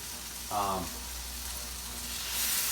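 Pan-fried gnocchi sizzle steadily in a hot pan, and a brief voice-like tone rises over the frying as the pan is tossed, after which the sizzle swells again.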